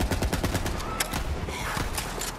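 Star Helix legendary assault rifle in Borderlands 3 firing in loud, fast bursts of rapid shots, with dense stuttering reports across the whole stretch and a few sharper cracks standing out.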